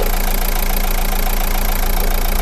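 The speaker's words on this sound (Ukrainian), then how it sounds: "Двигун працює чітко, рівно, без яких коливань лишніх по демпферу" A Renault Megane 1.5 dCi diesel engine idles evenly with a steady low rumble and a faint rhythmic knock, continuous and close, with no voices.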